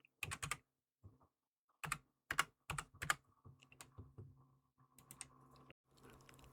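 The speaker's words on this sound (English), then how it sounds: "Or I can manually type in my own date." A date typed on a computer keyboard, close and quiet, in short bursts of quick key clicks separated by pauses, with a faint soft tapping between the bursts and no talking.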